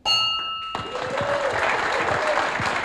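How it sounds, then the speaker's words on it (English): A gavel strikes a Rotary club meeting bell once, leaving a bright metallic ring that sustains briefly before it is swallowed by loud applause filling the room. "you have to grab that gavel and ring it as loud as you can"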